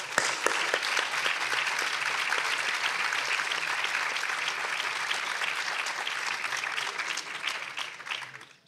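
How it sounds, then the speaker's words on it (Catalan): An audience gives sustained applause at a commemorative event for the women of the Ribera d'Ebre, bright dense clapping from a crowd that holds steady for several seconds before tapering off at the end. "Un fort aplaudiment."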